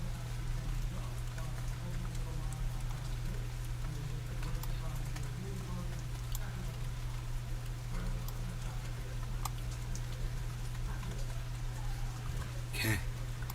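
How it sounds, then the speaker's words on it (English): Steady rain falls in a continuous close patter with scattered drips and taps, under a low constant hum, with no clear talk over it. "I hope you can hear the rain."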